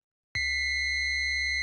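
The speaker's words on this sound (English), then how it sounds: "It's actually this very simple patch with 2 sine waves, but what's creating the screech is the fact that this is so many octaves up there." Synthesizer patch built from two sine waves pitched many octaves up, producing a steady piercing screech that starts abruptly, holds evenly for over a second, then cuts off, heard alone.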